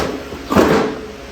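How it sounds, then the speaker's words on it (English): Tractor hood of a 1945 Farmall A set back into place, a single short metallic clunk and rattle near the mic, standing alone against quiet background. "the hood should just pop right back on"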